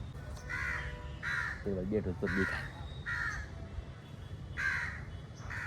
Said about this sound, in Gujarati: કાગડા પણ કાવ કાવ કહી રહ્યા છે કે ભાઈ વરસાદ ક્યારે આવશે